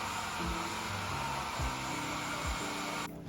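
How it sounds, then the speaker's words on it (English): A blow dryer runs at close range on hair styled in microlocs, giving a loud, steady whirring rush with slight shifts in pitch as it moves, then cutting off abruptly at the end. "So let me get a blow dryer"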